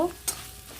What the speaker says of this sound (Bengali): আর দিয়ে দেব পরিমাণ মতন হলুদ একটু নেড়ে নেব